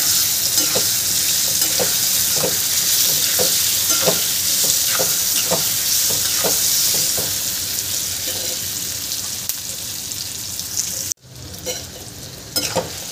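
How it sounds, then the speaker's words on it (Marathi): Spiced ivy gourd (tondli) stirred and frying in a pan: a steady close sizzle with rhythmic scraping strokes of the spoon about every half second, then a brief clatter and quieter frying toward the end. "तेंडूळ घालून घ्यायचा आहे। आणि याला छान मिक्स करून घ्यायचं आहे।"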